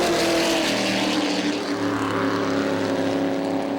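A pack of pickup trucks roars past at the green flag of a short-track speedway race, a loud, dense, continuous engine blare with no pause or voices.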